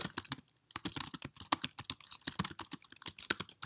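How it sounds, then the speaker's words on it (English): Fingers tap rapidly on a computer keyboard, close and crisp, producing irregular bursts of clicking keystrokes with short pauses between them. "I can just type right in there."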